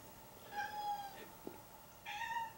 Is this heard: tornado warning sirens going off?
no